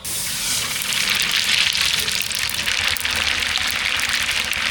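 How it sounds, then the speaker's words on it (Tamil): Mustard seeds frying in hot sesame oil while tempering for puliyodharai, a loud, steady sizzle with fine crackling and spatter, close up, with no talking over it. "நல்லெண்ணெய் நல்லா சூடாகிட்டு கடுகு சேர்த்துக்கலாம்"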